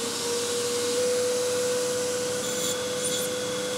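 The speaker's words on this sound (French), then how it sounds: "J'arrive à aspirer de l'huile avec cette merde." A homemade suction device draws oil out of the cylinders of a BMW 330i E46 M54 engine in a garage, giving a steady, loud rushing suction hiss with no talk.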